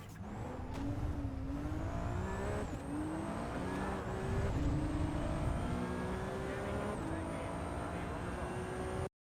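Race car in the iRacing sim being rammed and wrecked by another car, engine droning loud and steady with a high whine and occasional rough knocks throughout.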